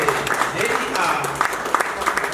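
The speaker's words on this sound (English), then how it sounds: "So I want us to clap for our Mbale Heroes." A crowd applauds a local football team, Mbale Heroes, during a sponsorship event in Uganda, with steady dense clapping throughout and voices mixed in.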